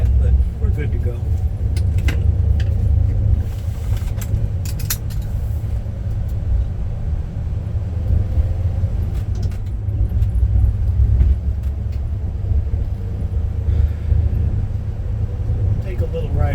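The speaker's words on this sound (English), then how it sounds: "Engine's not quite warmed up yet, but we're good to go." A 1973 Dodge Charger with a 440 engine and four-speed, not yet fully warmed up, running and driving; a loud, continuous deep rumble with some clinking and rattling on top and no clear talk.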